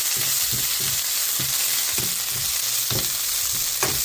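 Spinach and parsley sizzle in a hot pan while a utensil stirs the greens in a steady rhythm of scraping strokes over constant frying hiss.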